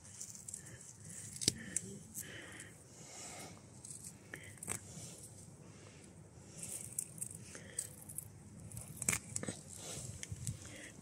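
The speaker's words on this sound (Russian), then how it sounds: "Рвем такой замечательный укропчик." Fresh dill pulled up by hand with its roots from a garden bed near bricks, giving soft, irregular rustling, snapping and crunching of stems at close range with scattered sharper clicks, and no speech over it.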